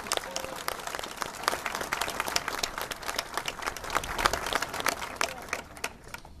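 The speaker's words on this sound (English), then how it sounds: "One more clap for all of those guys" An outdoor crowd at a Walk for the Wounded event in Ocean City, New Jersey claps for first responders, with uneven, choppy applause and scattered sharp claps that taper off toward the end.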